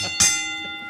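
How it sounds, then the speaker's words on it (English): A single bell strikes once, bright and ringing, then decays slowly over under a second and leaves a lingering tone. "Ring the bell."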